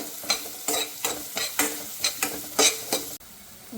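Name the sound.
onions with salt frying in a pan, stirred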